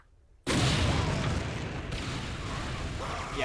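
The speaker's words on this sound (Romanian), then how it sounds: "Ok, acum se aud și explozii." Loud, continuous roaring blast of explosions in Unreal Tournament 2004 that bursts in suddenly and holds steady, like a sustained explosion rumble.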